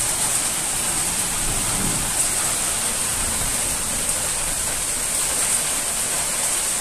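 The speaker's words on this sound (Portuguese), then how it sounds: "Olha, tá chovendo até aqui, ó. Tá vendo? Ó o trovão." Heavy storm rain pours down in Itapura, a dense and constant roar from start to finish, with a faint low rumble of thunder briefly beneath it.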